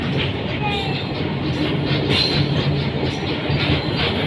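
Passing train at Khantapada station, a continuous rumble of rolling wagons with rhythmic wheel clatter and brief high squeals, loud and close throughout.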